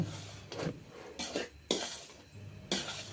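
Beetroot rava laddu mixture stirred in a pan with a utensil, giving a few distinct scraping and clinking strokes at close range, fairly quiet, without speech.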